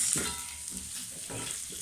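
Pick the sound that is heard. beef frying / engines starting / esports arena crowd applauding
beef frying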